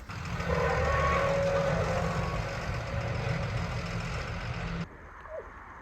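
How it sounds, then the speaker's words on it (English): Distant machinery rumbles and echoes through a winter canyon near an ice climbing park, a steady droning hum that drops away abruptly near the end, leaving quieter ambience with a faint call. "machinery echoing in the canyon when he was way up the road."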